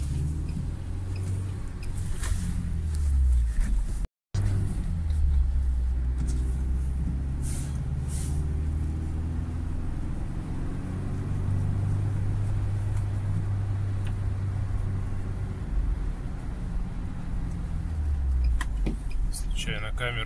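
A 2019 UAZ Patriot drives through city streets, with a steady low engine and road drone heard from inside the cab and a brief cut-out partway through.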